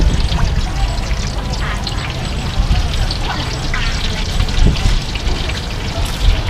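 Glass noodles stir-fried in a wok at a Thai market food stall, a steady loud sizzle and hiss with scraping and clatter throughout, under background chatter.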